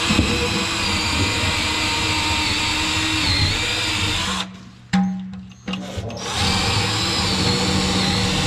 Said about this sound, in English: But I'm drilling from underneath, so I'll go under there now.